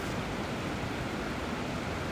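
Steady broadband rush of a river flowing in Switzerland in winter, an even, moderately quiet wash of water noise with no breaks, no voices.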